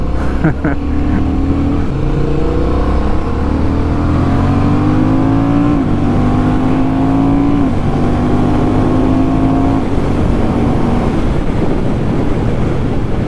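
A Honda motorcycle runs fast on a track through a chicane, its engine droning steadily with rising and falling rev pitch under strong wind roar for about thirteen seconds.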